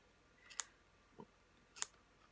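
Scissors cut paper for a circus-themed altered book in two crisp, close snips about a second apart, with a faint click between them in an otherwise quiet room.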